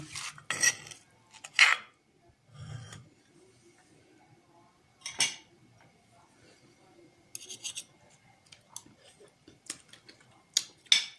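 A pestle thumps and clinks in a mortar while cucumber salad with pork sausage, crab sticks and fermented fish sauce is pounded and tossed: scattered sharp knocks and scrapes, close by, separated by quiet gaps.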